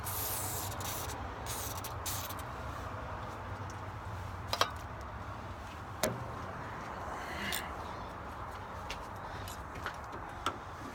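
An aerosol can sprays into the valve area of a flathead engine during valve removal, a continuous hiss broken by a few sharp clicks and knocks from handling nearby.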